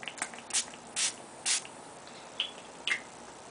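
e.l.f. Makeup Mist and Set setting spray misted onto a face from close range, five or six short hissing pumps spaced about half a second apart, fairly quiet.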